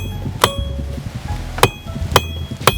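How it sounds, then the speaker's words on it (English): Four sharp metallic hammer strikes ring out on an anvil, spaced irregularly, each with a bright clanging ring, close and loud. "so just hammer it on the end of the anvil"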